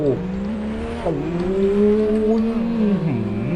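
Toyota Supra MK4 engine in Driving Empire revs hard and close, climbing through gears with pitch dropping at each shift before rising again, a loud continuous straining drone.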